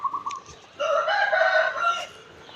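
A rooster crows loudly in a rural yard in Lampang, northern Thailand, on a winter day. One long, clear crow follows a short opening call, with faint birdsong around it.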